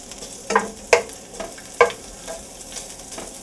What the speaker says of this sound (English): There's your pancetta or your bacon, whatever you're going to use. And you want to let that fry up crisp.